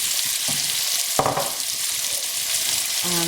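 Peppers land in a hot pan of prawn bhuna with a brief burst over a continuous sizzle. The frying hiss carries on steadily afterward, close and loud, with no voices.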